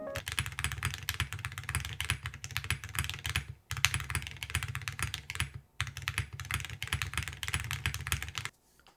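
Typing on a mechanical keyboard fitted with Awekeys metal keycaps: dense, fast, close clacking in three long bursts separated by brief pauses, with a bright, slightly metallic edge to the keystrokes.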